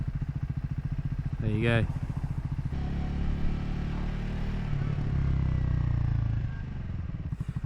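A Triumph Scrambler 400 motorcycle engine runs at a steady, close idle with a rhythmic low thrum, briefly swelling in pitch, while a rider talks over it.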